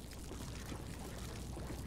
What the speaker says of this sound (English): Pour a gasoline trail.